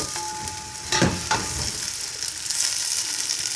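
Flour-and-black-pepper coated chicken pieces frying in a pan with oil for chicken Manchurian, a steady broad sizzle with a couple of sharp stirring bursts near the start, close and moderately loud, no talking.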